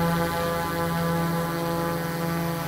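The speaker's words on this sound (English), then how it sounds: "Starting the motors and throttle up to launch." A DJI Mavic 3 Pro drone spins up its motors and hovers close by on a calm day, giving a loud, steady, high-pitched propeller whine with layered tonal hum.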